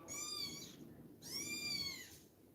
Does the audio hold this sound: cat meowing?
yes